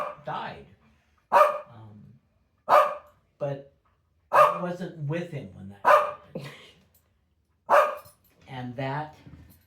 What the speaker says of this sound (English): quit barking in the corner